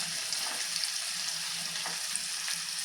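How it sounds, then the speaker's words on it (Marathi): Onion sautéing in oil in a pan for a leftover-rice fodnicha bhaat gives a soft, steady sizzle with faint crackles and light stirring, quiet and close throughout. "आणि थोडासा कांदा आपण परतून घेऊया गुलाबीच्या रंगावरती"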